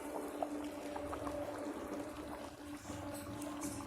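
Mutton gravy simmers steadily in a covered pot on a stove, giving a continuous soft bubbling hiss with a low rumble, no voices.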